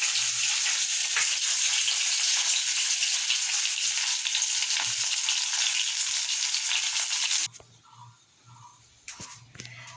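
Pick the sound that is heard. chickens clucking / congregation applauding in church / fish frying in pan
fish frying in pan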